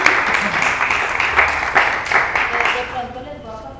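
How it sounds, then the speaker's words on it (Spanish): An audience at a Spanish-language talk on forgiveness and reconciliation breaks into clapping that stays full for a few seconds, then thins out as a voice comes back in. "Un aplauso"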